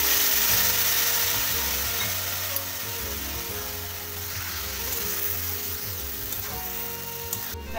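Vegetables simmer and fry in a pan with a prepared spice paste and fried lentil dumplings, making a loud, continuous sizzle with faint scraping and a few small clicks, and no one speaks.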